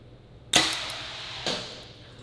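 Two sharp, loud thwacks about a second apart as full-length aluminum arrows hit a block target, each a bright impact with a short ringing decay.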